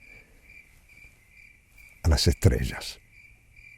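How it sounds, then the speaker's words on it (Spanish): Crickets chirp at night in a steady, continuous high trill that runs the whole length, while a voice briefly speaks a short phrase over it partway through. "Los grillos, como siempre, volvían a cantarle"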